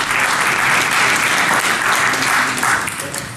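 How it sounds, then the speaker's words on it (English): Loud, dense applause rolls through a conference hall at Black Hat 2017 just before a talk on power analysis attacks, holding steady and then tapering slightly at the end, with no talk over it. "Clapping before I begin."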